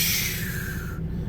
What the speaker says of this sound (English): That is the air escaping the brake chambers.